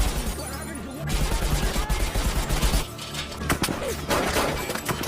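A gunfire exchange in an action film about a cartel, with bursts of shots, crashes and shattering mixed into dense soundtrack noise, loud and close throughout.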